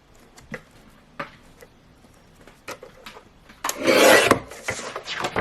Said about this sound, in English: that's the Gemini guillotine